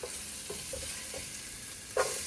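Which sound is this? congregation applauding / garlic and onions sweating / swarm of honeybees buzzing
garlic and onions sweating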